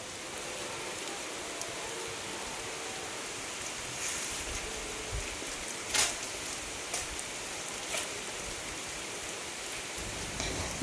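Rain falls steadily at Mulapadu butterfly park, a soft, even hiss of drops on surfaces with an occasional louder splash or patter standing out over the constant wash.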